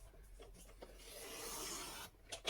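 A small sharp blade trims a strip of paper, a faint close scratchy rasp that swells into one steady drawn cut and ends with a few light ticks, no talking.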